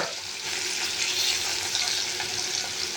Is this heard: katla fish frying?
yes